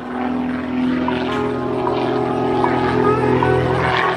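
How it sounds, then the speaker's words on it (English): A Skybolt 300 aerobatic biplane tumbling round and round at an airshow, its propeller engine droning steadily and loud throughout, with a faint voice over it. "and Bob Shabak tumbles that airplane round and round."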